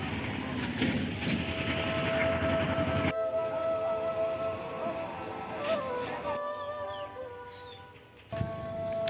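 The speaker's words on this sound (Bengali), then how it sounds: "শুনতে পাচ্ছেন মসজিদে মাইকে আজান দিচ্ছে" Call to prayer from a mosque loudspeaker carries across Mokosh Beel, a large open wetland in Kaliakair, Gazipur, at midday. It is a drawn-out, wavering tonal chant, distant but clear over outdoor background noise, with brief breaks.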